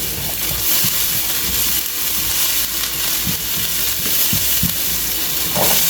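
Garlic sizzling and burning in a hot pan while cooking chicken lechon paksiw, a continuous loud hiss with scattered soft knocks and stirring clatter, no voices over it.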